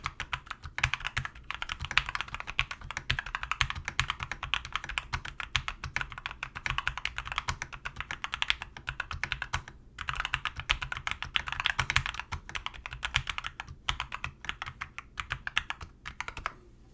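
Steady, rapid typing on a CIY X77 TKL mechanical keyboard with lubed and filmed red switches, soft, muted keystrokes, continuous for the whole stretch with a brief pause near the middle.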